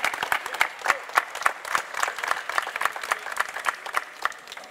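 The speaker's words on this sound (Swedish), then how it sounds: "Kan inte publiken ge honom en varm peppande applåd här?" A cooking-competition audience in Helsingborg gives a chef a warm, sustained round of applause, with dense steady clapping from a crowd and no talk over it.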